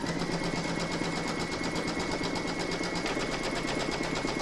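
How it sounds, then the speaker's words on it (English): An embroidery sewing machine stitches an outline on a quilt panel held in a hoop, a steady rapid mechanical whirr with fine needle ticking that runs unbroken close by and stops abruptly at the end. "you can then stitch round number 1"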